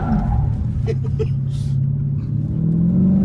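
A Dodge Challenger 6.4 SRT Wide Body with about 500 horsepower, pulling hard in first gear on pedal shifters with stability control switched off, gives a loud close engine roar heard from inside the cabin that rises steadily in pitch.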